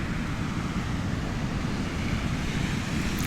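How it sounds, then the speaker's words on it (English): Gray ocean surf washes steadily onto a misty beach, a continuous broadband roar with wind buffeting the microphone and no voices. "while we stare at this gray, great ocean."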